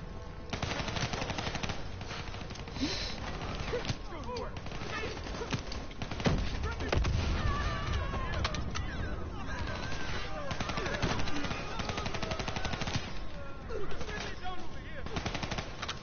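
Sustained machine gun fire rattles in the Call of Duty Black Ops 3 single-player campaign, dense and continuous for the whole stretch, layered with other combat noise.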